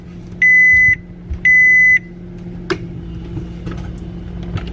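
Two long, steady electronic beeps from an appliance, one after another, followed by quiet room noise and a few small clicks.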